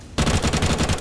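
Desert Eagle pistol fire in Counter-Strike, a quick loud volley of rapid gunshots that rattle on for under a second right after a brief quiet moment.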